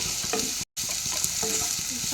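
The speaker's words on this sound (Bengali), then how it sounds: "এখন গাজরটাকে আমি ভেজে নেব।" Chopped onion and carrot fry in hot oil with a steady close sizzle, broken by a brief silent gap and punctuated by stirring scrapes of a spoon in the pan.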